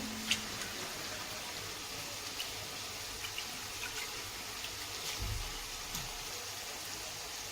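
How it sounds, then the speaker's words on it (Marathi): Toor dal being rinsed in water in a home kitchen, a steady wash of running and sloshing water with a few small clinks, moderately close and fairly quiet, with no talking. "मी तुरीची डाळ दोन ते पाण्याने तीन धुवून काढत आहे"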